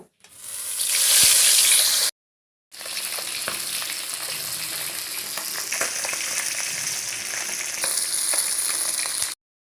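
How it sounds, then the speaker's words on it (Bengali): Fish pieces frying in hot oil in a pan give a loud, steady sizzle, bursting up strongly at first, dropping out briefly, then carrying on as a continuous crackling hiss with small spatters. "এবার আমি বাকি মাছগুলো ভেজে নেব"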